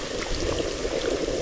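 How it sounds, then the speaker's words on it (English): Fish sizzles and fries in a hot pan outdoors at the beach, a dense, steady crackling hiss heard close and loud, with no voices. "the sizzle sells right there"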